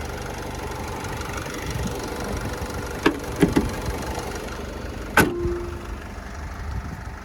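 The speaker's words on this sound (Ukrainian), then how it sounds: "так робота мотора робить рівнесенько" A 2014 Renault Trafic 2.0 diesel van engine idles quietly and evenly in the background, broken by a few sharp clicks and knocks, including a louder knock near the end.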